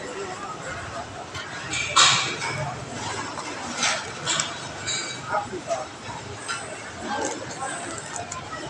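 A stray dog near Mall of Asia along Diokno Boulevard gives a few short yips and whimpers while being fed a bone, heard amid outdoor crowd chatter and street noise.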